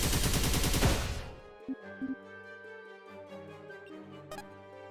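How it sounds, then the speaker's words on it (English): Machine gun fire from the video game Dark Deity 2: a loud dense burst of rapid shots for about a second, then fading into game music with a few brief thumps. "Machine gun."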